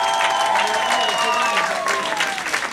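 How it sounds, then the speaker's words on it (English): A concert audience applauds a band's whole team during a live session, heavy crowd clapping with some cheering that runs throughout, while a sustained musical tone and voices sit under it. "Applause for the whole team."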